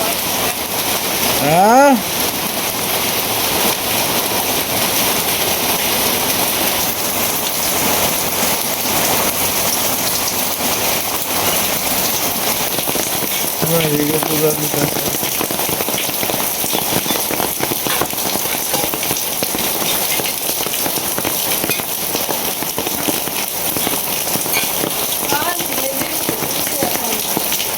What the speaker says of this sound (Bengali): না, বৃষ্টি আর কমতো না।